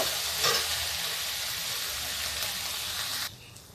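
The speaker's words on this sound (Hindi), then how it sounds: "देखिए, आलू भून गई है, आलू पालक सब।" Potatoes and spinach fry together in a pan for a fasting-day dish, a steady close sizzle with a faint stirring scrape that cuts off sharply near the end.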